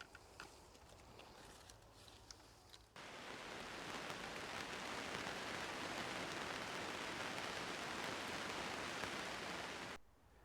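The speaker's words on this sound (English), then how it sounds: "here comes the rain" Steady rain falling on an allotment garden at night, starting as a soft hiss and swelling into a dense, even downpour noise around three seconds in, then cutting back near the end.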